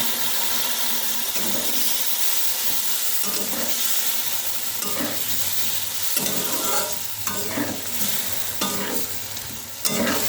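Spice paste hits fried potatoes in a pan, giving a steady loud sizzle with repeated stirring scrapes throughout.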